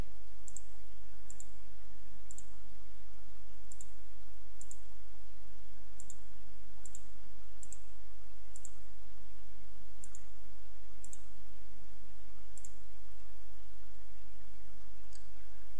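Computer mouse clicks sound one by one at an uneven, unhurried pace as letters are selected in image-editing software, each click crisp and close, with no talking over a faint steady hum.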